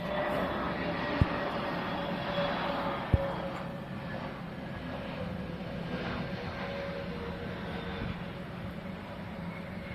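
A British Airways airliner passes at London Heathrow Airport, a steady broad engine roar holding loud and even for the full ten seconds, with a couple of faint sharp clicks and no talk.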